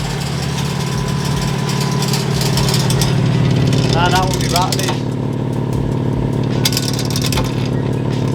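A cheap BMW M4 engine runs with a rattly valve, a loud steady low drone with a fast ticking rattle on top, while someone speaks briefly over it.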